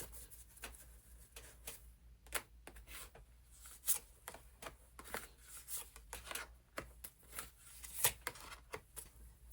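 Tarot cards being shuffled and drawn by hand, a run of soft, irregular card flicks and slides with a few sharper snaps, close and quiet, with no talking.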